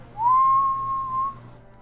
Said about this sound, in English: A train whistles.